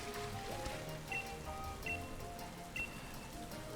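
Steady rainfall in the Pokémon Sword video game makes a soft, continuous hiss with faint patters and occasional light chimes from the game sitting quietly under the rain.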